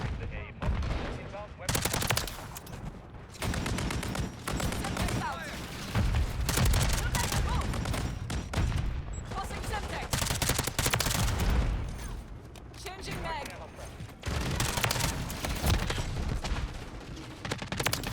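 Rapid bursts of gunfire from a burst-fire MP5 with a Lachmann Shroud in Call of Duty MW3, loud and dense, with explosions and game noise running almost continuously.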